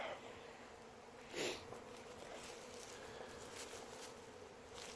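Honeybees buzz steadily in a faint, continuous drone around a hive in cold weather, with one louder pass of a bee flying close by.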